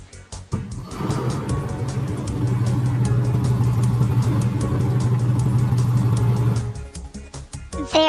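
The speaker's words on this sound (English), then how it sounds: "There's a car." A car engine runs in a sustained, steady mid-pitched drone for several seconds over background music, then cuts off abruptly.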